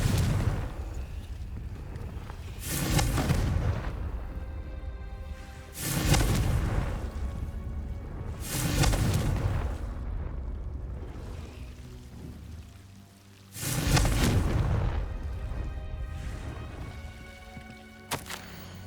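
Confringo spell blasts in the video game Hogwarts Legacy on PS5, four loud booming explosions spaced a few seconds apart, each with a rumbling tail and a crackling burst of debris.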